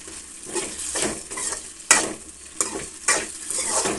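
Sizzling oil from a tempering frying in a pan over a low flame, with scraping and a few sharp clinks from a spoon stirring against the metal, close and steady.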